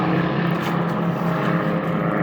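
Airplanes drone overhead in a steady, loud, continuous propeller-like hum with no voices heard.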